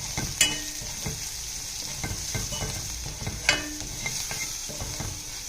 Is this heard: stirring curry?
yes